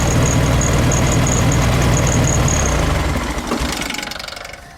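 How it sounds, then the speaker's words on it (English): A 1972 VW Beetle engine with too much ignition timing runs loud and steady, then keeps chugging briefly after being shut off before sputtering down and fading out. "This engine probably would have overheated, and when we shut it off, it runs on a little bit"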